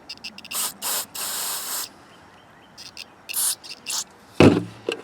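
Cleaner sprayed into the fuel system of a Craftsman Eager-1 lawn mower with a Briggs engine, a series of short and longer hissing aerosol bursts close by, separated by quiet gaps, with a brief thump near the end.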